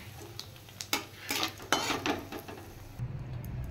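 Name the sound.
frying whole cumin, dry red chillies and bay leaf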